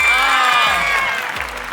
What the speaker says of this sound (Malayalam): അങ്ങനെയാണെങ്കിൽ നമ്മുടെ ചേച്ചിയാണ് വിജയിച്ചെന്ന് പറഞ്ഞാൽ കൈയടിച്ചേ